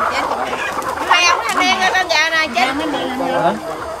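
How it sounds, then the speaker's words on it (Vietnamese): Chickens cluck and squawk close by on a free-range farm as several people catch them, agitated bird calls rising over steady talking from the workers. "bảy người bảy người đang bắt gà nha"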